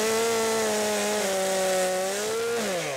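Chainsaw cutting up logs beside the Vistula river in Poland, a loud continuous engine whine that holds steady and then drops in pitch near the end as the cut finishes, with no talk over it.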